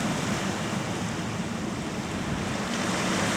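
Waves wash onto the shore at Elliot beach in Arbroath, a broad, continuous rushing surf mixed with wind noise, with no voices.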